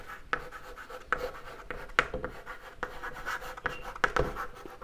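Pen or marker writing by hand on a board or paper during a Hindi math lesson, giving soft scratchy strokes in short bursts with small pauses, close and fairly quiet, with no talk.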